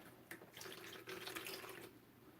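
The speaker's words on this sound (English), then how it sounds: "We're going to get to add a little bit of water to this though." Water trickles and splashes steadily from a tap while a little is added to a homemade wood putty mixture, a continuous close running-water sound with no speech.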